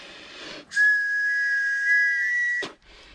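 A single long, shrill blast from the whistle built into a Tops Armageddon knife sheath, loud and close, lasting about two seconds with faint rustling before and after.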